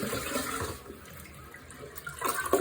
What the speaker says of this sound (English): if you want to flush a toilet, and you could just use a bucket of water